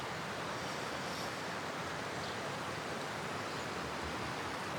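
The Aaos River flows through the Vikos gorge in Zagori, Greece, a steady broadband rush of water that stays constant and fairly distant, with no voices.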